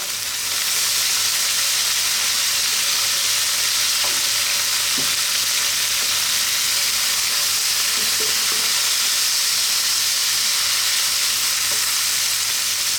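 Beef stir-frying in a wok over high heat with ginger, chopped garlic and black pepper gives a loud, steady sizzle, with occasional soft scrapes from constant stirring and no voices.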